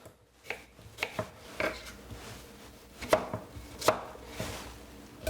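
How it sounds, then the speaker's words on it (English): A knife chops cucumber on a cutting board in quick, irregular taps, close and fairly quiet, with short pauses between bursts of cuts. "Cut it up very small"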